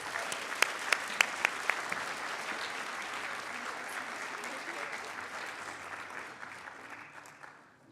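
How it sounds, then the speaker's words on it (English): Audience applause at a student leadership awards ceremony, a dense, steady patter of many hands clapping that carries on strongly for several seconds and then tapers, with a few sharper claps early on. "Please join me in applauding the winner of this year's Camille K. Rajpat Memorial Award"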